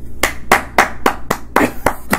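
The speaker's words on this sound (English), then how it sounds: "I clap." Seven or eight sharp, evenly spaced hand claps, close and loud, in a steady rhythm.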